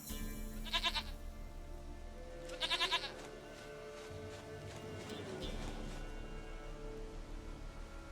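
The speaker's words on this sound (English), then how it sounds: "Goat of mine, dearest, sweetest goat." A goat in the video game The Witcher 3 bleats twice in short, wavering bursts over a low, steady game ambience with soft background music.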